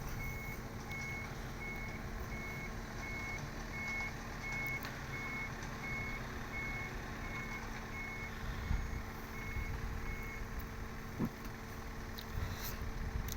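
A truck backing in to load soil, its steady reversing beeps repeating evenly at moderate distance over a low engine rumble, with no talking.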